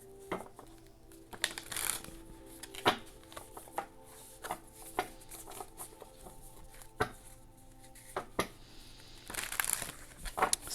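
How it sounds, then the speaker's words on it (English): A tarot deck shuffled by hand, with a run of crisp card riffles, slaps and rustles, irregular and close, quiet overall and with no talking. "Let's pull some tarot cards."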